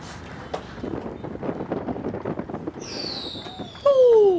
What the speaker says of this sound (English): Ooh, fireworks being shot.